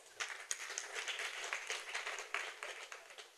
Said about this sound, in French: que je vous demande d'applaudir fort